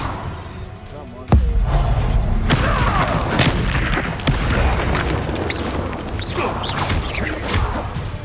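In Hogwarts Legacy, an Incendio fire spell erupts with a sudden loud whooshing burst followed by crackling flames and magical effects, while a voice talks over the game action.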